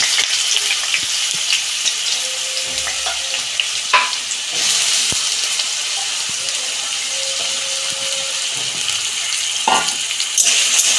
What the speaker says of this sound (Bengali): আলুগুলো ভেজে নিচ্ছি।